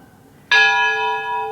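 A single loud strike of the bell of St. Michael of Tbilisi Church rings out over a quiet city after a moment of quiet, its bright metallic tone sustaining and slowly fading.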